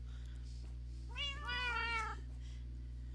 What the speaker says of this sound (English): I believe these are all my cats.